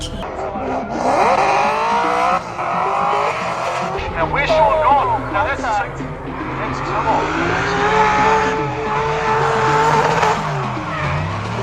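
A 2,300 horsepower drift car at a drift competition at Sydney Motorsport Park, engine roaring and rising through revs with squealing tyres, heard from a distance under continuous commentator talk.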